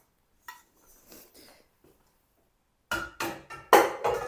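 Pots and pans, including an orange casserole dish, clink and clatter in a home kitchen with a few faint taps, then a burst of louder metallic knocks and scrapes close by, with no talking.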